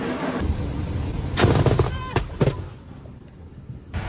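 A powerful explosion over a river caused by a lightning strike: a sharp loud blast at about one and a half seconds, followed by further cracking bangs and rumbling, with a background roar throughout.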